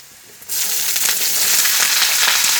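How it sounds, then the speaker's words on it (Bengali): Chopped vegetables, including kundru, tipped into a pan of fried onions for a cauliflower-stalk chorchori, bursting into a loud, steady sizzle after a quiet start and frying continuously without talk. "দেখুন পেঁয়াজটা ভাজা ভাজা হয়ে গেছে, আমি এবার এগুলো দিয়ে দেবো।"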